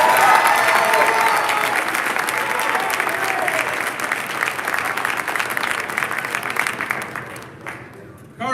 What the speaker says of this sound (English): Let's give Coach Waz a round of applause.